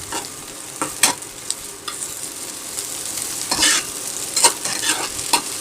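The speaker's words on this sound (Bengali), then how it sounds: "এবার আমি সব কিছু মিক্স করে নিচ্ছি, আর আরও ভালো করে কিন্তু ভেজে নিচ্ছি।" Dried chapa shutki fish and pointed gourd peels are stirred and fried in a pan, with a soft, steady sizzle and irregular scraping strokes of the spatula coming in close, and no one speaks.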